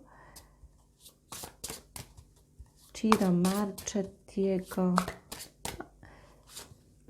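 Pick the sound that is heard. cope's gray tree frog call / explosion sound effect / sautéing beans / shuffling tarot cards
shuffling tarot cards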